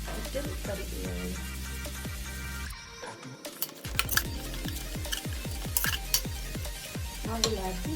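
Soya chunks biryani with vegetables being stirred in a pot, a spoon scraping and knocking against the metal in quick irregular strokes over a soft sizzle, close and clear with no talking.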